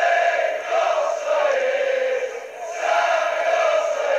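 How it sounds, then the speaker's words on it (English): Leeds United supporters fill a football stadium with a broad, steady roar and swelling chant, rising and dipping in waves for several seconds with no talk over it. "You can hear the crowd, Eddie."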